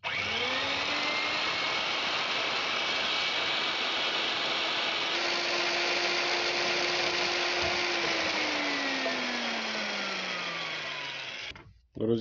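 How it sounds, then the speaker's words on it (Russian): A steady, loud motorized whine of a drill boring into metal, running continuously with a slowly shifting pitch, then cutting off abruptly near the end. "В центре вот здесь вот засверливаем отверстие."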